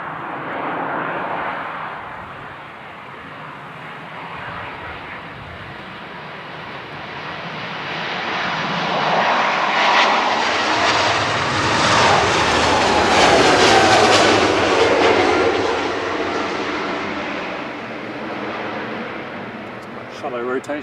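A Jet2 Airbus A330 roars on departure from Manchester Airport, its engine noise swelling from a distant rumble to a loud, broad jet roar and slowly easing off, with people talking over it.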